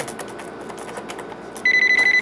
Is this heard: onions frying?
no